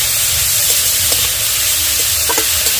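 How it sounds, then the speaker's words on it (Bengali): Grated carrots stirred in ghee in a pan for carrot halwa, a loud continuous sizzle and hiss with scattered scraping stirs, close up and without voices. "শুধু ঘি দিয়ে সামান্য একটু নেড়ে তারপরে তুলে নেব।"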